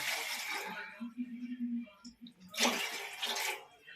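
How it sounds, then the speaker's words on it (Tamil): Water splashes into a cooking pot in two short pours for semiya payasam, with someone talking softly in between. "பாயாசத்துக்கு கொஞ்சம் தண்ணி ஊற்றுறேன்"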